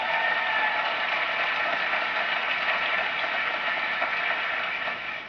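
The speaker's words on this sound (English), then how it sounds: "Give John a big round of applause." Audience applause for Governor John Lynch at a political rally: a dense, even wash of clapping that stays steady throughout and fades slightly at the end, with no voices.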